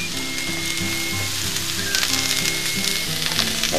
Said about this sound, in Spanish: vamos ahorita a saltear la cebolla, el pimiento y la zanahoria